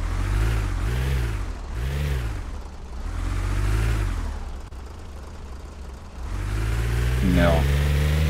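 Car driving in a Roblox video game, a steady mid-pitched engine hum that rises and falls in repeated revving swells, loud and continuous, with a brief high chirp near the end.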